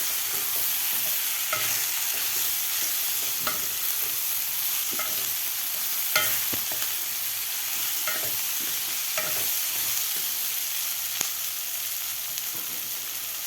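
Vegetables being stirred into sizzling masala for a dalia khichdi, a continuous fry hiss broken by regular spoon scrapes and taps against the pan, close and with no talking.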